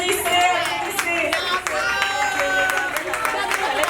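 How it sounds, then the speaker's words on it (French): Indoor audience at a casual aperitif gathering clapping for a raffle prize winner, a scattered round of hand claps mixed with crowd chatter and a voice talking over it. "Applaudissez, applaudissez."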